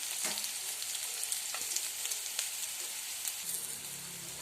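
Chicken masala, chili powder, coriander powder and garam masala are stirred into chicken curry in a frying pan, producing a continuous close sizzle broken by sharp scrapes and taps of the spoon, with no talk.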